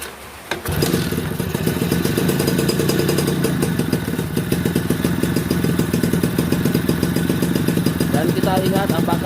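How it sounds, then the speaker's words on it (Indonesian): Suzuki Tornado motorcycle engine starting and then idling steadily, a close, loud, even mechanical chug that holds for the rest of the clip. "Dan nyalakan motornya."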